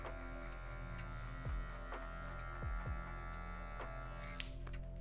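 An electric hair clipper with a number 1 guard buzzes steadily while cutting short afro-textured hair, a close, continuous hum with small dips in pitch as the blade meets the hair.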